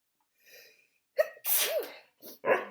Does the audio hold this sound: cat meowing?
no